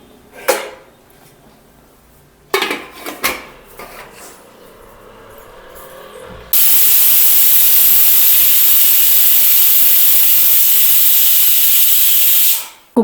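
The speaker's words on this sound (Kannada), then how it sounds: "ಈಗ ಕುಕ್ಕರ್ ಮುಚ್ಚಿ ವಿಷಲ್ ಹಾಕೋಣ." A pressure cooker of rajma pulao on the stove gives a few sharp knocks and clatters, then bursts into a loud, steady, close steam hiss and whistle lasting about six seconds before cutting off abruptly.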